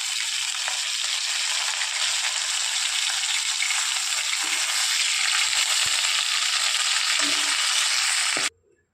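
Tilapia fish fry in hot oil, a loud, steady close-up sizzle with occasional soft clinks of a utensil, ending abruptly after about eight seconds.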